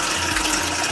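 Water gushing steadily from a bottle into a mixing bowl for roti dough, a short continuous splashing stream.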